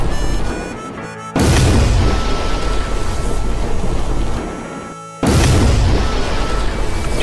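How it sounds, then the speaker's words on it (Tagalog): Anime battle explosions from Hunter x Hunter: two sudden massive booms at about 1.4 and 5.2 seconds, each a loud broadband blast that rumbles and slowly decays, with no voices. "At sumabog na naman ang kapaligiran at sa lakas nga ng explosion, inayanig ang buong paligid."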